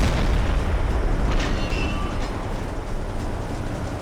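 Enemy gunfire shells burst near a U-boat in the Silent Hunter 3 submarine game, a heavy low rumbling boom that rolls on and slowly fades, with faint sharper cracks mixed in.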